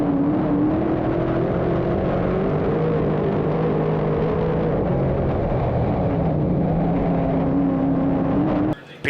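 Race cars roaring around the dirt oval at Brewerton Speedway during SummerFAST, a loud continuous engine drone with shifting pitch as the pack runs at speed, steady and close, with no talking.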